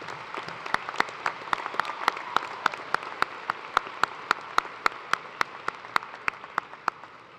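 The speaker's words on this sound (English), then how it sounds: "Let's give a round of applause to everyone who helped make this possible." Sparse, evenly spaced claps ring out at a university undergraduate commencement ceremony, sharp individual hits over a soft crowd background.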